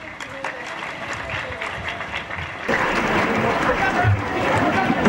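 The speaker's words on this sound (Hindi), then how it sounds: "जोरदार तालियां" Applause from an audience at an international peace conference in Hyderabad rises into a dense, sustained round of clapping that fills the hall, with a voice speaking over it.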